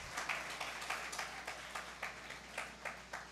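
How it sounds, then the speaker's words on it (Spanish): A church congregation claps together during a Spanish-language sermon, a faint, fairly distant rhythmic patter of hands with evenly spaced beats over a low room hum. "Denle un aplauso al Señor,"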